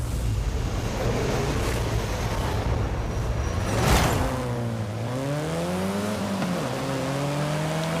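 A race car engine in Forza Horizon 5 drones steadily, then its pitch rises and falls with gear shifts, backed by a steady rushing noise. No talking.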